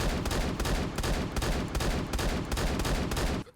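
Rapid, dense shotgun fire from the BB12 in the Phantom Forces game, a continuous loud burst of overlapping blasts for over three seconds that cuts off abruptly at the end.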